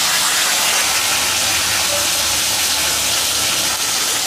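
Katla fish pieces frying in hot oil in a pan, a steady loud sizzling hiss that holds evenly throughout with no pauses.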